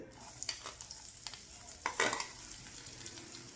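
Soft sizzling of chopped small onions and large onion with curry leaves sautéing in hot oil on low heat, with a few stirring scrapes and clinks, steady and close, no talking.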